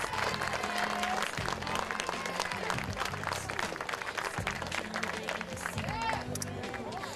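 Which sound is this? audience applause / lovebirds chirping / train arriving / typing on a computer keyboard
audience applause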